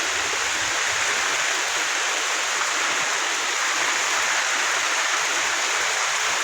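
Heavy rain pours down on a flooded village yard, a dense, even, unbroken hiss of falling water throughout.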